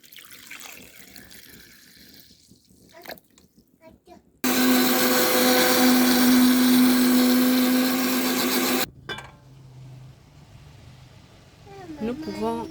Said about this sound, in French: Voici notre pâte dans le mixeur. Nous allons la pétrir en ajoutant un peu d'eau.